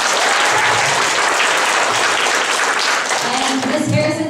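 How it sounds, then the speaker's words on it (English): Audience applause after guests of honor are introduced at a vocabulary bee event, a dense, sustained round of clapping filling the room throughout, with a voice faintly underneath near the end. "Please give a round of applause."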